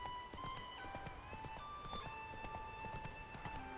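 Roach, a horse in The Witcher 3 video game, clip-clops in a steady, brisk rhythm of hoofbeats over continuous game music and ambience.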